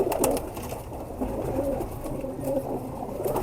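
A pigeon coos softly and repeatedly in a low, throaty murmur close by, set against a busy background hum with no talking.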